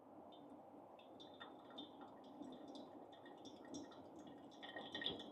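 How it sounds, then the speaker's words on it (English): Hot water trickles quietly into a Hario V60 or Mugen pour-over dripper, soft continuous pouring with faint drips and light glassy splashes, close and gentle. "And the last pour all the way to 300 grams of water."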